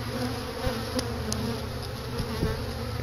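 Honeybees humming in a dense, steady drone close by during a spring brood check of an open hive, no voices, with a few brief louder buzzes as bees pass near.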